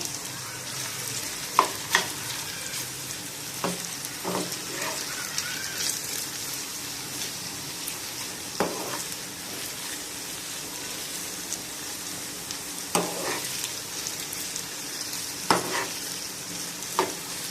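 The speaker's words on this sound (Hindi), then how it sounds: "अब हम इनको 2-3 मिनट फ्राई करेंगे" Chopped potatoes frying in a pan for a potato egg omelette crackle in a steady, dense sizzle, close and fairly loud, with occasional spatula scrapes and taps.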